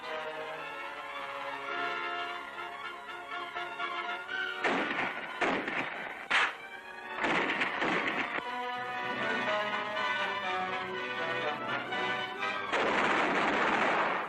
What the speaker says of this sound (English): Big 155mm guns are hauled into position until they're well within range of the Japanese.